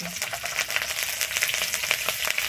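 Nigella seeds and slit green chillies crackle in hot oil left from frying fish, a busy close sizzle with quick rhythmic pops and stirring taps over a few seconds.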